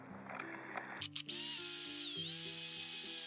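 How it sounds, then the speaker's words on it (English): A power drill making holes in a paper planner whines at a high pitch, stuttering briefly before running steadily and loud, its motor pitch dipping slightly as it bites. "that gives you an idea of what will happen if you use a drill to get the holes in"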